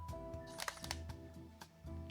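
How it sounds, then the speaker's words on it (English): Shutter of a Sony a7R Mark I camera firing a few times, loud, close mechanical clicks and clacks in quick sequence with no talking. "This is not a silent shutter."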